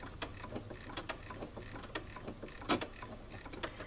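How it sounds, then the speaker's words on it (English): A sewing machine run by foot control stitches a button on automatically, giving a steady run of quick, close mechanical ticks and clicks with one louder clack near the end, with no talking. "I'm just going to be pressing down on my foot control, and this machine will automatically stop when the button is sewn on"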